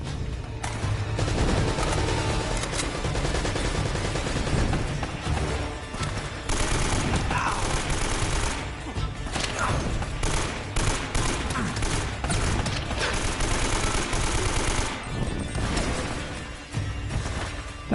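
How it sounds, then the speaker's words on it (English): Turret machine gun in the Uncharted: Drake's Fortune video game firing sustained bursts, dense rattling fusillade with crashes and impacts running continuously and loud throughout. "I hear the damn turret."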